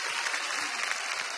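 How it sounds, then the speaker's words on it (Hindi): An audience applauds Alka Yagnik at an Indian Idol live stage show, a continuous, fairly soft wash of many hands clapping heard from a distance, steady throughout with no voices on top. "अलका जी और पापा के लिए जोरदार तालियां"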